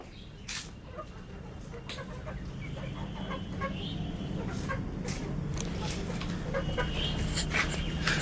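Chickens cluck and call in bursts while being driven into a cattle shed, with a steady low background hum throughout and a few faint voices.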